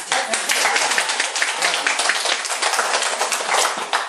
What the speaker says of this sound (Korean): 진짜 박수 한번